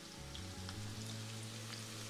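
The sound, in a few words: onion sautéing in olive oil in a pan, sizzling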